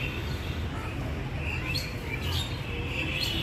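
Common myna birds chirp at Alipore Zoo in Kolkata, with scattered high calls coming through a steady, noisy outdoor hum at moderate distance.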